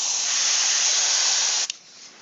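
White primer sprayed from an aerosol can onto miniatures, a steady loud hiss for about a second and a half that cuts off abruptly with a brief sputter.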